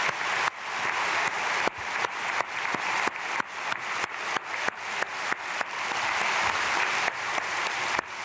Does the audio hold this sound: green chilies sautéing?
no